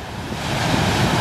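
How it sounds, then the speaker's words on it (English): Ocean surf rolls onto a beach in a steady broadband wash, loud and close, with wind buffeting the microphone and no voices. "Waves are still coming, but they're not as big, but they're really slow ravers"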